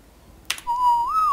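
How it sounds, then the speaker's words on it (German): A single short whistle given as a command to tamed creatures in the game ARK: Survival Evolved, a clear sustained tone that wavers slightly upward near the end, preceded by a brief click. "So, pfeifen wir mal neutral die Viecher."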